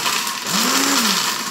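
Blender grinding small indigo (anil) stones for homemade powdered soap: a steady, loud whirring grind throughout, with a rising and falling motor tone near the middle as the stones rattle.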